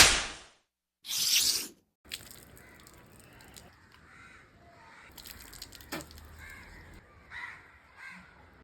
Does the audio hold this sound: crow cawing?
yes